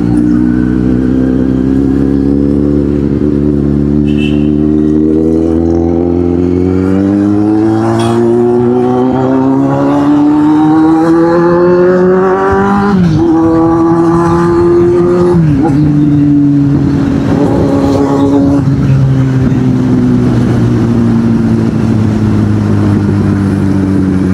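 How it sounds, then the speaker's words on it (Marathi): A loud engine runs close by, its pitch rising smoothly as it revs up, then dipping and climbing again, with a steady droning tone throughout. "गाडीचा आवाज असा जास्त किरकिरा नाही आहे, जास्त स्मूथनिंग आहे, स्मूथिंग साऊंड आहे ऐकण्यासारखा"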